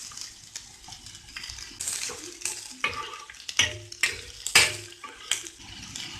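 Sliced onion sizzles in a pan for egg masala while a spoon stirs it in repeated scraping strokes, the sizzle steady and fairly close with sharper scrapes toward the end.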